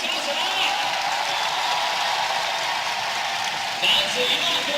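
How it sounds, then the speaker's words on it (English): A stadium crowd roars and applauds runners in a 10000 m race at the Universiade, a constant broad wash of cheering beneath a commentator's voice. "The crowd giving them support."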